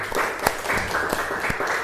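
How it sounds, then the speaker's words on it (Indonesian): Brief scattered clapping from a classroom of eleventh-grade students during an Islamic ethics lesson, a few sharp claps over a steady murmur, fairly close and short-lived. "Tepuk tangan, Masya Allah"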